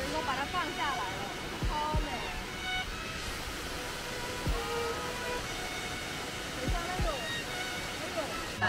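A man-made waterfall in Yichang sends a steady, full broadband rush of falling water through the whole stretch, with voices talking over it.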